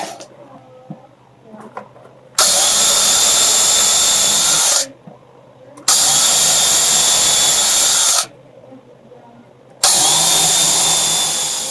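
A power drill bores into framing lumber during a farmhouse kitchen window installation. The drill whines loudly in three long sustained runs, each lasting a few seconds, and quiet handling noises fill the short pauses between them.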